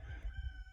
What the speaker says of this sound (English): It's a rooster. You're a little late, rooster.